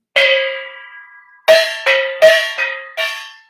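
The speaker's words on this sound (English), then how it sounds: "and here's a gong" A small metal gong is struck once, left to ring, then hit four more times in quick succession, each clear, bright tone decaying briefly.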